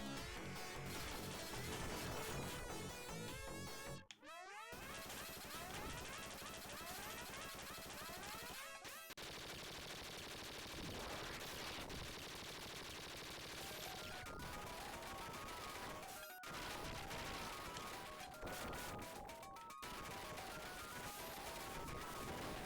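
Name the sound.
missiles being fired at enemies in Ultracore video game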